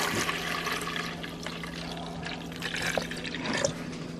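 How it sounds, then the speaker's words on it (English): Water poured into a pitcher to make Kool-Aid, a steady trickling splash running throughout at moderate level with a low hum in the room. "So how you make Kool-Aid, you should just put water"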